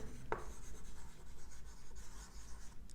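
A pen scratches across paper as accounts entries for bank charges are written out by hand in a bookkeeping class, a faint, continuous scratching with one sharper tap near the start.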